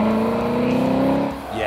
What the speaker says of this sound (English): This might be about the most cutting-edge V8 engine on the road today, but thankfully it sounds pure old school.